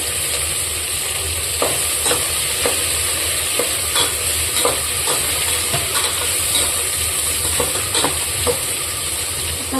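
Tomatoes sizzle and fry in a pan with fresh mint and coriander for fish ball biryani, a steady hiss with occasional stirring knocks throughout, close and alone with no talk.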